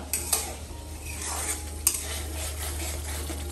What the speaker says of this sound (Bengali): এই যে কোফতা রান্না করছি, কোফতা ভেজে রান্না করছি